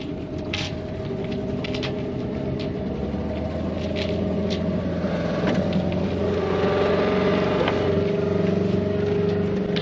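A sailboat's inboard engine runs in gear during a solo docking, giving a steady, fairly loud droning rumble that holds throughout with a little mechanical rattle on top.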